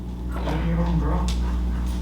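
A dog whimpers and gives short yips during e-collar place training, close and fairly loud over steady low background hum, with a voice nearby.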